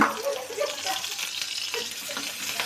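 Chopped onion sizzles and crackles steadily in hot oil in a pan while Maggi noodles are being cooked, a close, continuous frying hiss with no one talking.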